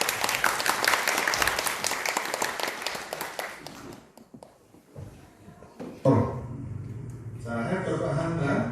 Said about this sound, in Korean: 힘찬 격려의 박수 부탁드리겠습니다.